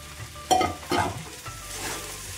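Sabudana and peanuts stirred into fried potatoes in a pan: two close scraping, rattling strokes of a spoon over a soft continuous sizzle.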